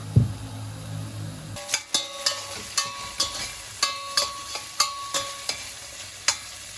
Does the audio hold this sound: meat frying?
yes